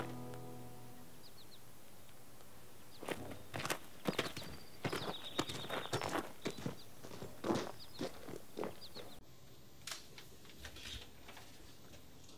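After a few quiet seconds, a bronco's hooves start clip-clopping in an uneven rhythm, fairly faint and somewhat distant.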